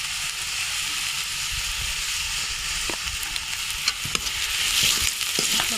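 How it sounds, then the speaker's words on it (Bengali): Onions fry in a pan with turmeric while being stirred for a Bengali sea-fish dish, a steady loud sizzle throughout with occasional scrape and clink from the stirring, no voices. "পেঁয়াজটা আমার ভালো মতো ভাজা হয়ে গেছে"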